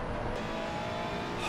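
Audi race car engine in the ACC racing game, a steady loud roar running the whole moment with no break or pause.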